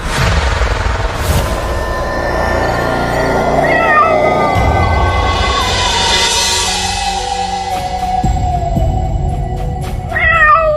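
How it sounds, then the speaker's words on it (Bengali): A cat meowing at night, several drawn-out, wavering cries up close and fairly loud, rising and falling over a dark rumbling background. "বিমল শুয়েছিল, হঠাৎ শুনতে পেল বিড়ালের ডাক।"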